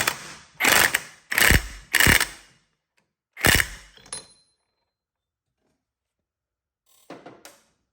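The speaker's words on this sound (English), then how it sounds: "I'll use a little persuasion from the Ingersoll Rand impact." Ingersoll Rand impact wrench working on parts of a crashed Harley-Davidson Bad Boy hot rod: several loud, close bursts of hammering, then a pause and a couple of shorter bursts near the end.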